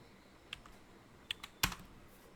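A few soft keystrokes on a computer keyboard, followed by one louder, close press of the Enter key in an otherwise quiet room.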